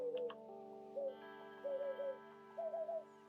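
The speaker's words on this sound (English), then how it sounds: "They kind of sound like pigeons or doves." Soft, low cooing calls resembling pigeons or doves, in short repeated phrases of two or three notes spaced across a few seconds, faint and somewhat distant over a steady low hum.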